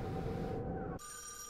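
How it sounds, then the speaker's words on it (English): A telephone in the [REC] Paroxysm video game gives a brief ring over a dense noisy background, cutting off abruptly into a thin high electronic tone. "There's the phone."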